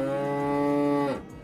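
A single long cow moo played as a sound effect on a game stream, a steady drawn-out low call lasting about a second before breaking off into quiet.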